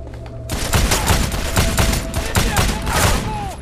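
Dense, continuous gunfire rattles through a shootout in Wanted: Weapons of Fate: loud, close, overlapping shots that never let up across the whole stretch.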